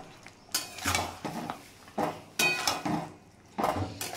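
Metal utensil scraping and clanking against a pan as spices with salt, turmeric and chilli are stirred, several distinct sharp knocks and scrapes spaced irregularly over a quiet background, no talking.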